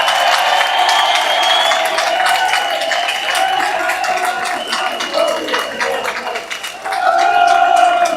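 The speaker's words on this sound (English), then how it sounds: "let's have a round of applause for Tommy Robinson." Outdoor crowd at a London street march clapping and cheering continuously, a dense, loud wash of hands and raised voices that dips briefly before swelling again.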